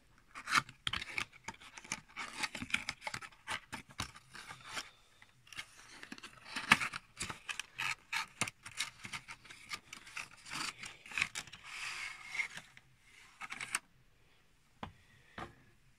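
Packaging of an N-scale display model TGV Inouï train being opened, with dense crinkling, rubbing and scraping of cardboard and plastic close up, continuing for several seconds before falling quiet near the end.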